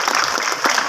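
An audience at a Hindi poetry recital claps briskly, a dense patter of many hands close by, filling the whole short moment.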